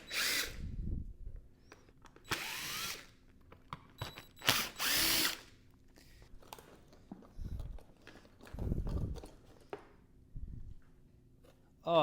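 A power drill removes screws from the fairing of a wrecked Honda CBR600RR motorcycle in several short whirring bursts between quiet gaps, close up.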